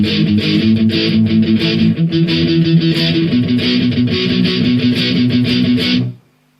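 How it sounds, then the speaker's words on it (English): Distorted electric guitar chugging palm-muted power chords in a punk rock verse pattern, tight repeated strokes with occasional chord changes, loud and close with no talking, ending abruptly. "you'll notice a lot of power chords, a lot of heavy palm muted,"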